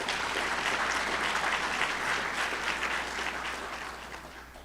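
A crowd at a county address applauds steadily, a dense wash of clapping that holds strong and then slowly fades.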